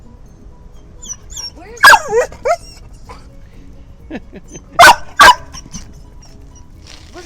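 Dogs at a dog park at night: a couple of sharp close barks and whimpering yips in two bursts, with someone talking encouragingly in between over quiet outdoor ambience.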